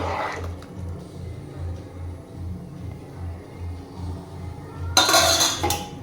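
Pots and utensils clink while tamarind kuzhambu cooks. A soft, rhythmic bubbling runs throughout, and a brief, sharp metallic clatter of a pot lid comes near the end.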